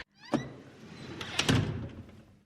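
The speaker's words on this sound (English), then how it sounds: "the doors closed automatically" Automatic bank doors slide and close with a rumbling mechanical sweep, a few thumps and a heavier thunk partway through, fairly close and without talk.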